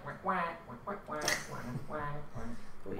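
Someone imitates dying ducks with a string of nasal, rhythmic quacking bursts, close and fairly faint, repeating quickly over a few seconds with voices mixed in.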